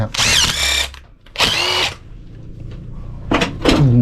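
Two bursts of an electric drill whirring at high speed, each under a second long, followed by a couple of shorter revving bursts near the end.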